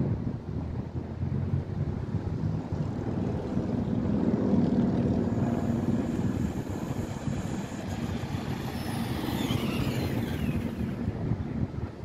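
A Traxxas Stampede RC truck runs outdoors on a speed test. Its electric motor gives a high whine that rises and sweeps past under constant rumbling wind noise on the microphone.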